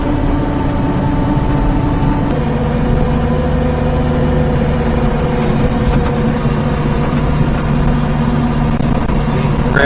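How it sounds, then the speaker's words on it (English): A car engine running at half throttle gives a steady, loud, low drone with a constant hum that holds for the whole stretch, with no talk over it. "That was about half throttle."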